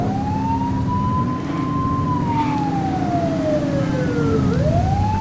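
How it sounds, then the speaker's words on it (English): A police siren from the video game The Precinct wails loud and near, its pitch sweeping slowly up and down over a low rumbling engine. "You're only meant to use the siren in emergencies."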